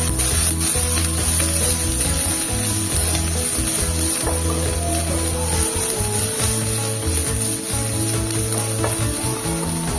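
Crushed ginger and garlic sautéing in a pan for a traditional rasam, a steady close sizzle with stirring scrapes running throughout, loud and continuous with no talking.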